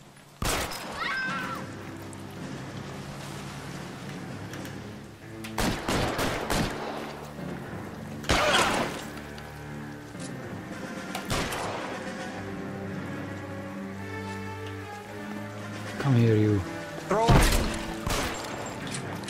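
Gunfire in LA Noire during a police shootout: several sharp, loud bursts of shots spaced irregularly across a steady game soundscape, with occasional clanks between volleys.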